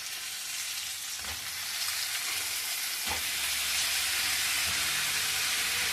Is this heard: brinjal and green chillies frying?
yes